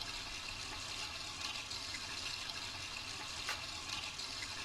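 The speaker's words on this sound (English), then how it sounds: "About 5 minutes flushing that toilet." A toilet flushing in the video game Deltarune, a continuous watery rush and gurgle that holds steady throughout without speech.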